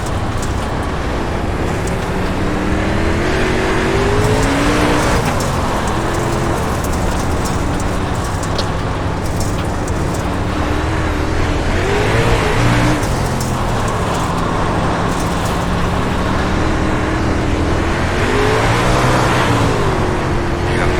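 Dirt super late model race cars in an iRacing simulation at Weedsport, engines droning loud and close with rising and falling revs as cars pass, under continuous roaring engine noise and no talk.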